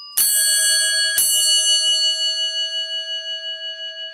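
A Westinghouse elevator bell gives two clear strikes a second apart, a ding-dong chime, the second note ringing on and gradually decaying.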